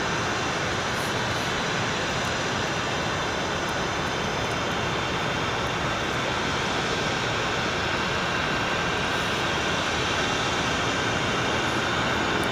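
A Boeing 777 with CF6 jet engines starting up at Boeing Field, heard as a loud, continuous, close roar with a steady whine running throughout, and no voices.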